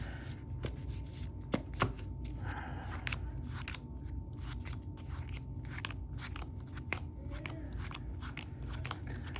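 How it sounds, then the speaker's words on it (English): A deck of Yu-Gi-Oh trading cards is shuffled by hand at a table, giving a steady, close run of crisp riffling and snapping clicks for several seconds with no talking. "I can shuffle this up, we'll deal it out"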